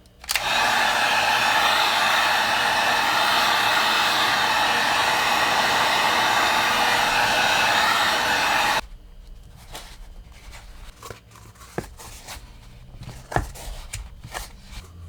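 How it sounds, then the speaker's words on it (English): A heat gun blows steadily and loudly on EVA foam for about nine seconds while a cosplay helmet part is heat-shaped, then cuts off, leaving quiet handling noises and a few small knocks. "So to heat shape the foam, use a heat gun, and then just heat up the foam."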